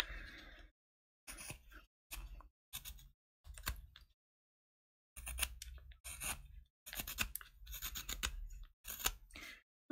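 Rough carving of a wooden rice paddle (shamoji) with a knife, heard as bursts of dry scraping and shaving strokes separated by short pauses, close and fairly quiet, with no talking.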